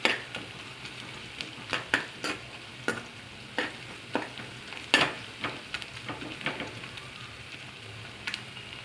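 Chicken biryani ingredients, cut into small pieces, fry and get stirred in a pan. Uneven spoon strokes scrape and clack close by over a steady low sizzle, with no talking.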